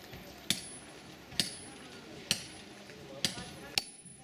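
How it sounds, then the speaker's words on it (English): Metal hammer striking concrete at a Buddhist monastery stupa in Gangtok, five sharp, fairly close blows spaced about a second apart over quiet outdoor background murmur. "He's just banging away with his hammer and making marks in the concrete"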